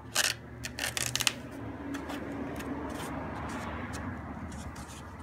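Knee pad material being cut for a 2016 Camaro, with a few sharp close snips and rustles at the start, then a steady hiss of cutting and handling under a constant background hum.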